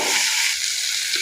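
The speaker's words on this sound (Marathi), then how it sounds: "टोमॅटोही छान परतून घ्यायचा." Tomatoes are sautéed in a pan with onions for a rustic village-style Maharashtrian mushroom sabji, giving a steady, close frying sizzle with no voices.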